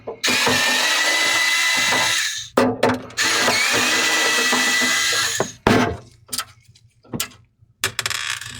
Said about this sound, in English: go ahead and unscrew. You have 2 screws right here that needs to be removed.